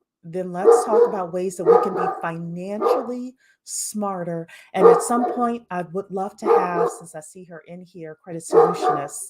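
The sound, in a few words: dogs barking in the background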